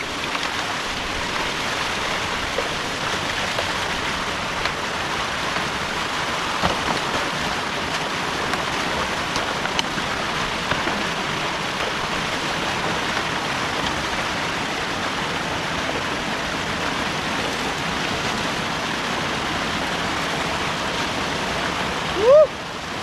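Creek water rushing steadily through a breached beaver dam, a continuous broadband wash of flowing water, close and even throughout, with a brief squeak near the end.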